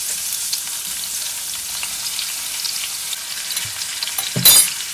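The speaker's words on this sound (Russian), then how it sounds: "Будем жарить до румяности." Onions fry in vegetable oil in a pan in a village kitchen, a loud, constant close-up sizzle and crackle. A brief louder burst of stirring comes near the end, with no talking.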